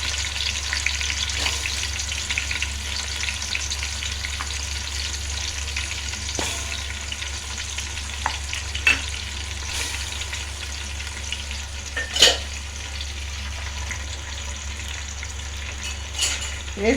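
Onion, green chilli, tomato and peas fry in a pan for coconut milk rice, giving a steady close sizzle with occasional metallic clinks and scrapes from stirring.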